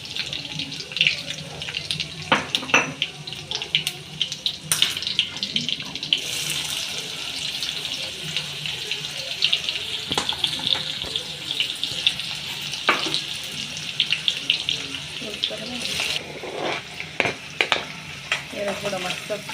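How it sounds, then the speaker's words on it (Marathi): Chili and onion fry in a pan alongside garlic and cumin, a steady close sizzle broken by scattered clinks and stirring scrapes, with a little background speech now and then. "थोडं मस्त फ्राय होऊ देऊ आपण मिरची आणि कांद्याला"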